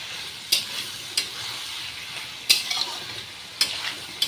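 Soybean curry masala is stir-fried with a little hot water, giving a soft steady sizzle broken by four crisp spatula scrapes against the pan at irregular intervals, with no talking.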